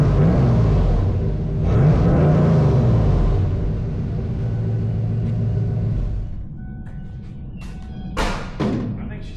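A 1996 Ford F350 pickup fitted with a new FlowMaster exhaust rumbles close by, running with deep low throbbing and a couple of revving swells before it settles and fades. A few sharp knocks follow near the end.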